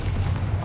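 The Confringo fire spell in Hogwarts Legacy sets off a short, loud, low rumbling blast that fills the whole brief moment with no gaps.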